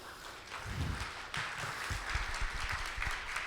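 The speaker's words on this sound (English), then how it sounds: "So give a round of applause to yourself." Audience applause fills a hall at a blockchain conference: a steady wash of many hands clapping at moderate level, with thicker low thumps, continuous across the whole stretch.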